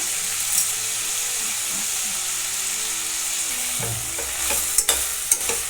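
Potato frying in a pan over medium heat, a steady soft sizzle running throughout with a few louder stirring clatters near the end.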